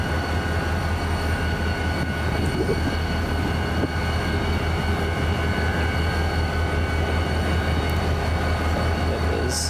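EMD SD40 diesel locomotive in Southern Pacific colors, a loud, steady low rumble of an idling or working diesel engine close by, droning without break throughout with no voices.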